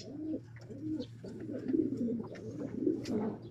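A Vandenbroek breeder racing pigeon coos softly and close by, in repeated low rolling calls with small rustles between them.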